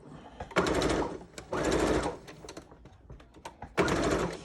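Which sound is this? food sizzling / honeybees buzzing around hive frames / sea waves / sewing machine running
sewing machine running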